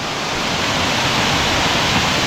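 The River Hipper in Derbyshire, by the abandoned Hunger Hill pumping station, rushes past in a loud, steady, close-up roar of flowing water, with no voices.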